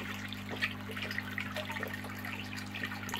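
Water trickling and splashing into a shrimp aquarium during a water change, a continuous bubbling pour over a steady low electrical hum, with no talk.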